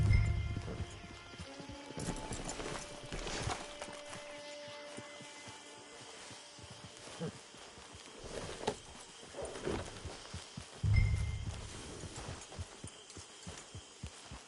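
In Red Dead Redemption 2, a horse walks with soft, irregular hoof clops on the ground, fairly close, amid quiet outdoor ambience and a brief snort or two.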